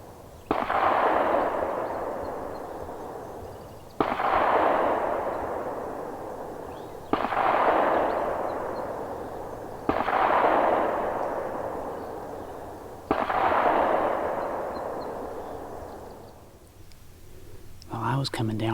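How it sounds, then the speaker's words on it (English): Five loud, booming gunshots at a Tennessee deer hunting spot, spaced about three seconds apart, each with a long rolling echo that fades slowly across open country, and no voices. "somebody just started unloading their gun."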